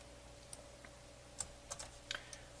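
Typing on a computer keyboard, a few faint, scattered key clicks in a quiet room, spaced irregularly with small clusters near the end.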